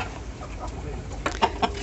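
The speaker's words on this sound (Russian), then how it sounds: "А куры ждут, чувствуют уже еду." Leghorn hens waiting for feed give a few short clucks near the end, close by, over a low murmuring farmyard background.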